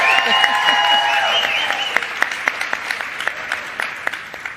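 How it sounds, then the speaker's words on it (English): Applause from an audience, steady clapping that thins out into a few scattered claps, with a brief voice at the start. "Let's give him a big round of applause."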